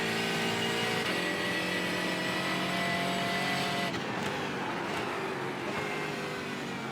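An Aston Martin race car in iRacing on the Zandvoort circuit during an IMSA Michelin Pilot Challenge race holds a loud, steady engine drone close up, its pitch shifting with gear changes partway through, with no talking.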